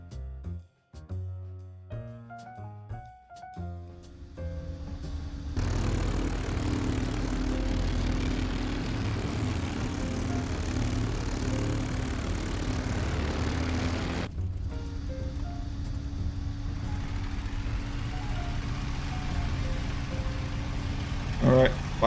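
Propeller aircraft engine of a P-51B Mustang in the flight game IL-2 Sturmovik: a few sharp clicks and thumps, then a loud, steady engine roar that drones on and shifts slightly in tone partway through.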